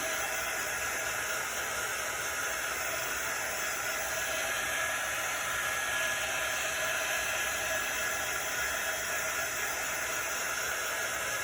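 A hand-held dryer blows steadily on chalk paste over a craft project, a constant, even hiss of air that runs unbroken from start to finish with no voices.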